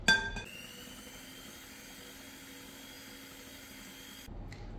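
An electric hand whisk beats apple cake batter as oil is poured in, giving a quiet, steady whirring hum that runs throughout, with brief clatter at the start and end.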